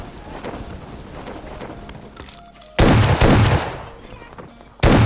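Loud shotgun blasts ring out in a military-zone battle royale video game, a couple of sharp, booming shots in quick succession after quieter in-game ambience.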